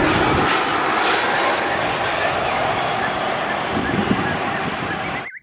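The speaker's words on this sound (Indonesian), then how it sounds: "di sini ada pesawat terbang." An airplane's engine roars loud and steady, a broad continuous wash of noise lasting several seconds before cutting off abruptly.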